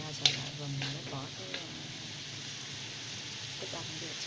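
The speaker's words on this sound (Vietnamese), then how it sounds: "Rồi mình xào qua xào lại" Flowering chives and small shrimp sizzle steadily while being stir-fried in a pan, with a few sharp clinks of a utensil against the pan, and a voice talks faintly in the background.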